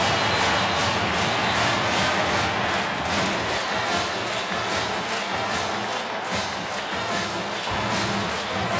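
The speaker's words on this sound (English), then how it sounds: "Only cheering." A stadium crowd roars and cheers loudly and steadily after a Clemson touchdown at a Clemson versus Florida State football game, with dense, continuous noise and no clear voices.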